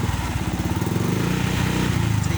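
A motorcycle fitted with an EXOS X-6 aftermarket silent exhaust pipe idles and revs up a little, its steady low engine drone close and continuous, rising slightly in pitch.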